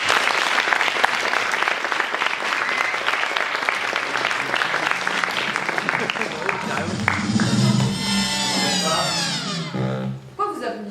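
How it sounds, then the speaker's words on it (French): A theatre audience at a cabaret play bursts into dense, loud applause that holds steady for several seconds, then gives way to a voice speaking over fading claps near the end. "un tonnerre d'applaudissements pour Gaspard Proust."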